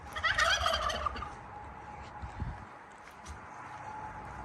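Turkeys in a farm pen let out a loud burst of gobbling up close, and quieter bird calls and low background noise follow.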